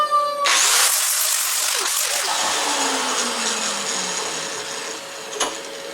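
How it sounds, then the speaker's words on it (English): An angle grinder spins up and bites into steel to cut a bevel, a loud, sustained high-pitched whine with a gently falling tone as the disc loads, then easing near the end. "I'm going to grind a little bit of a bevel on here."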